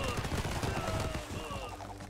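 Gunslingers firing in the video game Totally Accurate Battle Simulator, a loud, dense volley of overlapping gunshots that crackles continuously and tapers slightly toward the end.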